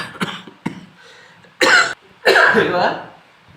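A few short coughs and throat-clearing sounds, close by, with brief pauses between the bursts.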